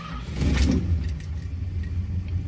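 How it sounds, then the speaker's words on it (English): Engine of a 1965 Chrysler New Yorker cranking and catching inside a building, a close, rumbling start with keys jangling faintly, then settling into a low, steady idle. "Love that starting sound."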